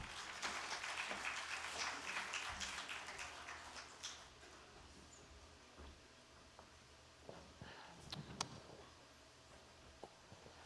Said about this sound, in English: Please, everyone, welcome them with a huge round of applause.